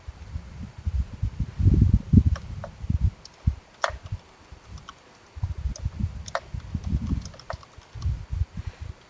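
Typing on a computer keyboard while entering a GitHub username in Git Bash, clusters of close, soft key clicks with short pauses between bursts.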